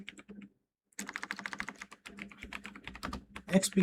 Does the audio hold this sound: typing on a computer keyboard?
yes